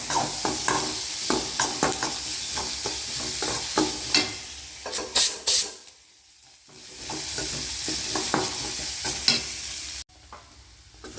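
Eggs fry in a pan at home, a continuous loud sizzle broken by sharp scraping stirs, falling away briefly to near quiet before the hiss returns.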